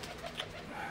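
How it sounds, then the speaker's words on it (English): Giant runt cross pigeon, almond colored, gives a soft, low coo close by amid faint background noise, one brief murmuring call within under a second. "Pretty good sized bird. He is almond colored."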